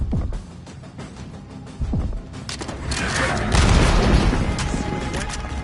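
A grenade blast and bursts of gunfire in the Call of Duty Black Ops 6 video game land loud and close, with crashing booms swelling into dense rattling fire, and brief voices heard early.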